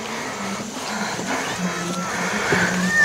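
A cat meows a few times on a farm over soft background noise, with some faint voice-like sounds mixed in; the meows are moderately close and not loud.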